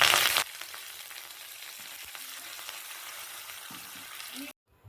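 Dried red chillies and curry leaves sizzle in hot oil for a tempering, a steady close frying crackle that starts with a loud burst and cuts off near the end.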